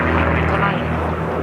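Aerobatic airplane flying a horizontal snap roll at the Reno air show, a loud, steady propeller-engine drone filling the whole short moment, with no voices.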